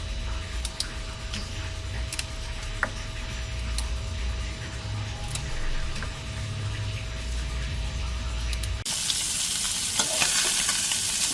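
Pork sautéing in a pan for sinigang, a steady close sizzle with scraping and stirring clatter, a sharper knock partway through, then a brighter hiss near the end as the pan heats or contents shift.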